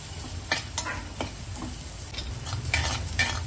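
Ginger, garlic and green chili paste sizzling in hot oil for Maharashtrian shev bhaji, with a steady close fry hiss and a few scrapes of stirring throughout, no voices.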